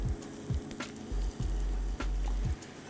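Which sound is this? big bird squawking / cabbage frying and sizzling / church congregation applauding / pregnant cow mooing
cabbage frying and sizzling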